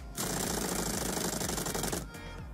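Power drill tightening a wheel's lug nuts in the Diesel Brothers PC game: a loud, steady rapid mechanical rattle that runs for about two seconds, then cuts off abruptly, leaving a quieter background.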